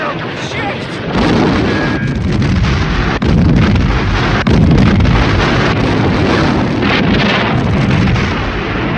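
An ammunition dump explodes in a 1977 war drama, a sustained roar of blasts and rumbling detonations with sharp cracks scattered through, loud and continuous from start to finish.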